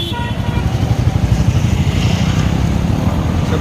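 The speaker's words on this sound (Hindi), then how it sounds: "गाड़ी निकला, बाइक निकला," Motorcycles leave a bikers' rally one after another on 15 August, giving a loud, steady engine drone that swells slightly as the bikes pull away close by.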